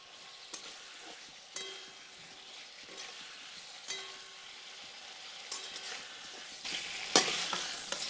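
Fried chicken pakoras for Chicken 65 are stirred into sauce in a pan, with scattered scraping and clinking strokes of a spatula over a quiet sizzle, ending in a sharper burst of frying.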